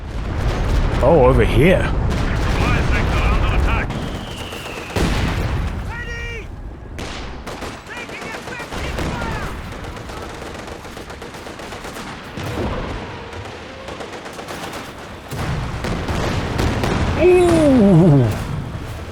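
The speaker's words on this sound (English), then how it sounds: "There's the rocket barrage." Rocket barrage artillery in Company of Heroes 2, with repeated booming impacts, rolling explosions and whistling descents amid gunfire, and someone speaking briefly over the battle.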